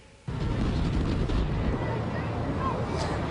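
Heavy wind buffeting a microphone outdoors in downtown Rochester during protest coverage, a loud continuous low rumble that starts abruptly and roars steadily throughout.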